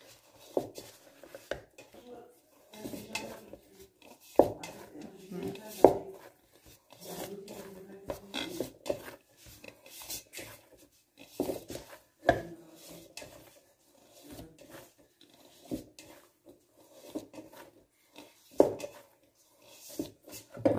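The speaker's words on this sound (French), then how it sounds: "Là, je pétris la pâte de manière à bien intégrer toute la farine" Hands kneading sourdough bread dough to work in the flour, giving soft, irregular rubbing and pressing sounds with occasional sharper knocks, mostly under a French-speaking conversation.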